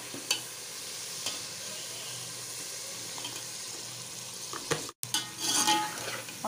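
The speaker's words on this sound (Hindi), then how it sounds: "मसाला भून गया। अब हम लौकी डालेंगे," Bottle gourd pieces tipped into a pan of fried masala for chana dal with lauki, giving a steady sizzle with stirring scrapes and a few clinks, close and continuous with no talking.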